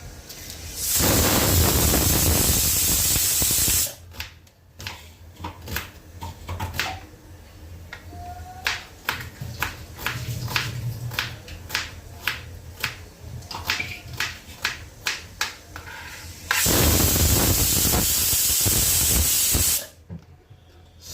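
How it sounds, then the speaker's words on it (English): A pressure cooker in a kitchen gives two long, loud bursts of hissing steam whistle, one at the start and one near the end, separated by a stretch of quieter sputtering, rattling puffs as steam escapes. "let this go for around 4 whistles"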